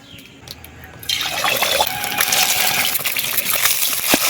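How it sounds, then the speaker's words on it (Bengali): Mustard oil poured into a washed wok for frying eggs in a village kitchen, a close, loud liquid splash and trickle starting suddenly after a quiet second and continuing steadily. "কড়াইয়ের মধ্যে অল্প করে সর্ষ তেল দিচ্ছি"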